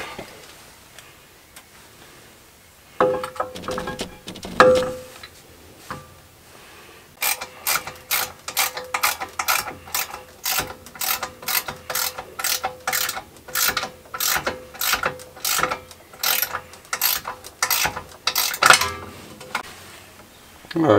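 A ratchet wrench tightens the brake caliper on a Mercedes 500 SL R129, giving a long run of sharp, evenly spaced mechanical clicks after a few earlier scattered metallic knocks and brief pauses.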